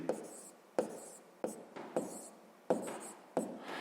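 Numbers written on paper for a sixth-grade long-division problem, heard as crisp, close pen strokes in an uneven rhythm of short scratches with brief pauses between them.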